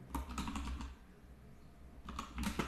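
Code being typed on a computer keyboard for a Spring Boot project, a quick close run of key clicks in two short bursts separated by a brief pause.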